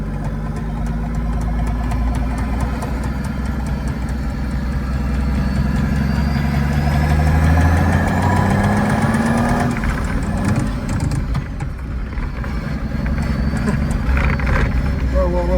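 A Mercedes 380SL roadster swapped to a turbo OM603 diesel runs close and loud, a rough clattering idle rising and falling as the throttle is pressed, with people talking over the engine.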